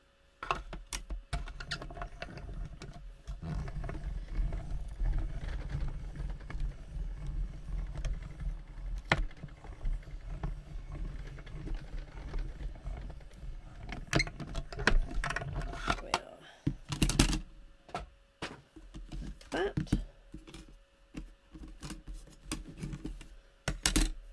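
A die cutting machine cranks a die through card stock, giving a steady mechanical grinding rumble with ratcheting clicks, then scattered sharp clacks and handling noises near the end.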